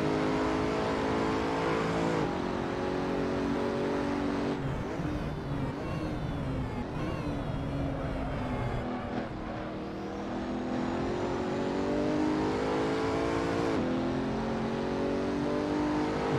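A hypercar engine in Assetto Corsa roars steadily at high revs, loud and close, with gear shifts marked by brief dips and climbs in pitch throughout the race.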